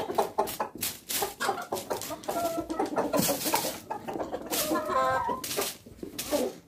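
Chickens cluck and chatter at close range while being fed gingerbread, a busy overlapping flock sound with a few louder squawks and a faint low hum beneath.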